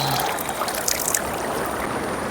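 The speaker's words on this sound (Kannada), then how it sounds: "ಇದು ಕುಮಾರಧಾರ ಮತ್ತು ನೇತ್ರಾವತಿ ಸಂಗಮ ನೀರು." River water at the confluence of the Kumaradhara and Netravati rivers near Uppinangady rushes in a steady, close broadband wash with no voices, and a few brief splashes stand out midway.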